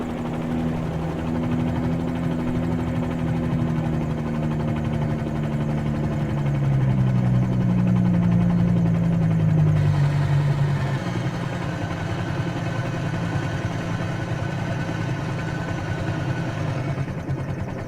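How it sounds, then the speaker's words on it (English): A helicopter engine idles in Microsoft Flight Simulator, a steady mechanical drone with a low tonal hum that dips and shifts pitch midway before settling, loud and continuous with no voices. "So we're going to shut down the engine so I can talk to you"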